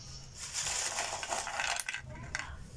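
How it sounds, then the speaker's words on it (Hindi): Crispy fried sweet potato fries crunch and crackle in a quick, brittle flurry of sharp clicks, close and moderately loud with no talking. "ये देखें, तो इसका क्रिस्पीपन देखें, बहुत ज़बरदस्त आवाज़ आती है"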